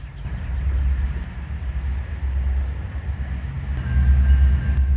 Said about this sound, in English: Then the BNSF's transfer auto rack train rounded the corner.